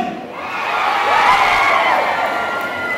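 A crowd cheers and shouts at a campaign rally for a congressional candidate in Barangay Hizon, a loud, sustained roar of many voices that swells in the middle and stays strong throughout.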